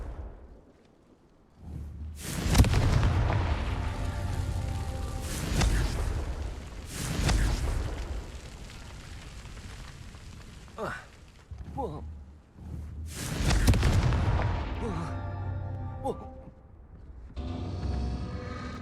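Confringo fire spells bursting in Hogwarts Legacy, several loud booming explosions with whooshing tails spaced a few seconds apart, amid game sounds and a voice calling out spells.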